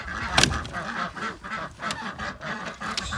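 Ducks quack and honk in a busy, close chorus of overlapping calls, with scattered louder squawks over low background noise.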